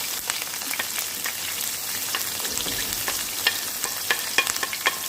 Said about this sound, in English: Release those aromatics in the pan, in the oil.